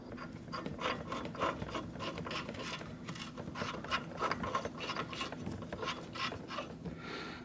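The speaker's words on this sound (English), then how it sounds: "But I still want to go ahead and put the nut on here just in case." A nut being threaded by hand onto the front strut of a 2007 Mini Cooper S: faint, repeated metallic rubbing and scraping with small clicks, close up and steady, with no talking.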